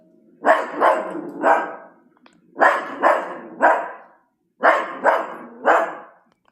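A dog barks close and loud in three bursts of three quick barks each, with short silent pauses between the bursts.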